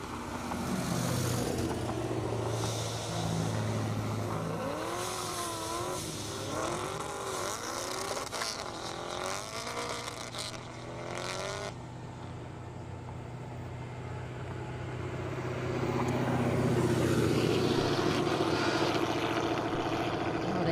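Drag race launch at a half-mile airport strip, a 2005 Pontiac GTO and a 2002 Honda S2000 pulling away together: loud, sustained engine roar with rising revs and gear changes, swelling again near the end, no talk over it.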